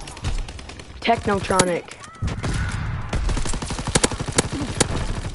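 Rapid SMG gunfire in Call of Duty WWII rattles in quick bursts, partly under a person talking, with a steady stream of sharp shots filling the second half.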